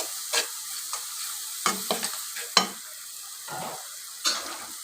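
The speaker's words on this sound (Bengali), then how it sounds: "এখন মশলার সাথে ভালো করে ভুনে নিচ্ছি।" Dried gagla fish frying with spices in a pan, a soft continuous sizzle broken by sharp scrapes and clinks of a stirring spoon at irregular intervals.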